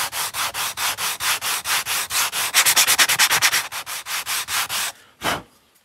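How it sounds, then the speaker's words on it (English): Small wooden miniature table pieces are sanded by hand to deburr their edges, a close, steady series of scratchy rubbing strokes that briefly quicken midway, then stop, followed by one last stroke. "You can plop those down together and deburr them."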